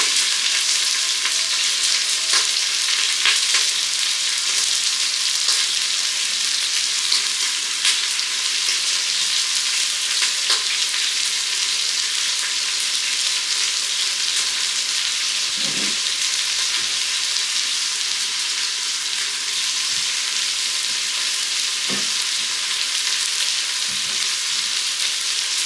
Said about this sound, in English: You want to saute them onions, get them brown.